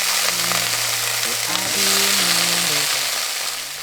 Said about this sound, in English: after sauteing the aubergine pieces, we will now do the same with potato slices as well